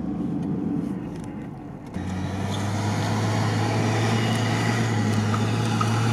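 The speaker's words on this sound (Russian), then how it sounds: "Сейчас разгон будет максимальный." A Suzuki Samurai engine revs up hard and holds a loud, steady roar while the vehicle pushes through deep, loose sand in a quarry, the rising drone close and continuous.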